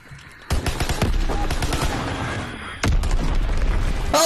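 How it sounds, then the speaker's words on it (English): Call of Duty WWII battle noise, a loud blast followed by a dense clatter of explosions and gunfire, with a second heavy burst near the end. "Enemy bomb incoming."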